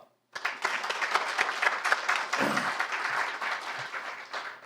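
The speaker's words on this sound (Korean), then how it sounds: "지금부터 재단법인 김영삼 대통령 기념재단 설립 축하연을 여러분의 힘찬 박수로 시작하겠습니다." An audience at a foundation's founding celebration bursts into vigorous applause, the dense clapping starting abruptly and staying loud and sustained throughout, with a few faint voices underneath.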